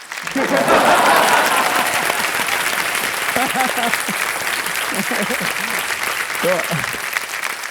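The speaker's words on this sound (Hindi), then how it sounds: "ताली हो सकती थी इस पर, नहीं?" A studio audience on a television quiz show breaks into loud, sustained applause that fills the room, with voices talking over the clapping throughout.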